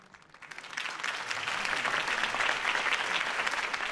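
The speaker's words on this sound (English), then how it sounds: "If only Mr. Wayne, my campaign's largest backer, could have heard that applause" Crowd applause in a Batman video game bursts into sustained clapping, building quickly from a few claps to a dense, steady roar.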